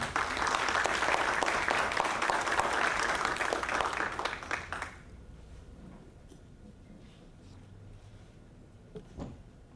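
An audience at a Congress conference gives a speaker strong applause, a dense, lively clapping for about five seconds that stops abruptly, leaving a quiet hall with a few faint knocks.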